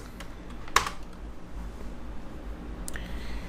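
A few sparse, faint computer keyboard keystrokes click against a quiet room background, with one sharper tap standing out.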